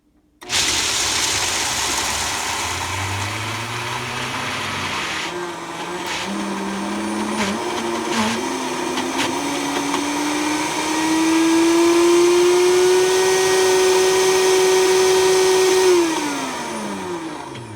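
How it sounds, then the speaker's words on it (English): A blender bowl grinds peanut butter with a loud continuous motor whine that rises in pitch over the run, labouring and surging as the thick paste churns, then winds down at the end. "so the maximum it's going to run is 1 minute for this peanut butter."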